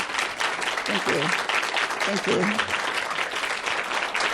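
Audience applause for a keynote speaker at a talk by a labor organizer, a steady dense wash of clapping throughout, with a voice briefly speaking over it.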